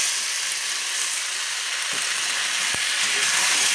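Ground spice paste hits fried potatoes in a hot pan for an egg curry, giving a steady, close hiss of sizzling oil, with one sharp utensil clink partway through.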